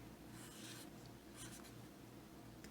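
Handwriting a chemical formula, quick faint scratchy strokes of a pen or marker in short bursts, close and quiet with no talk.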